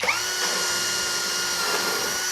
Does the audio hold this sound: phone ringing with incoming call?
no